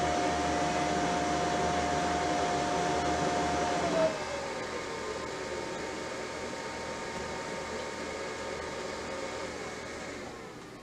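A Brother MFC L9550 laser printer, fresh from a belt unit replacement, whirs steadily as it comes back to its ready state. A tone drops in pitch as the motor changes speed, then a continuous hum settles in, with no talking.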